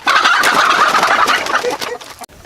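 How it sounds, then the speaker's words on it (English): Chickens on a farm squawk and cluck loudly and continuously up close in a frantic burst as one is caught, breaking off abruptly at the end. "The biggest part of being a farmer is being able to catch your chickens."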